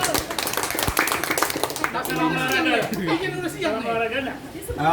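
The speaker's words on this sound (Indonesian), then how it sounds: "Terima kasih, tepuk tangan untuk kita semuanya." Brief clapping from participants at an Indonesian physical education session, quick scattered claps at first that give way to loud overlapping chatter and laughter from the group.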